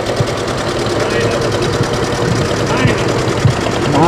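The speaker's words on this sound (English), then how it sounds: "Tom Kennedy and the vintage tractors." Several vintage tractors, including John Deere and McCormick models, idle and chug together along a Memorial Day parade route, a steady loud engine rumble with knocking pulses under crowd chatter and voices.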